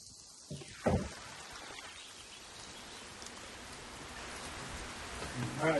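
Rain falls steadily on surfaces at a stone house under renovation, a soft continuous hiss, with a knock or thump near the start.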